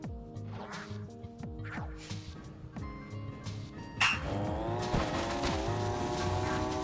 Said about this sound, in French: j'ai voulu essayer de faire avec un dérapage pour voir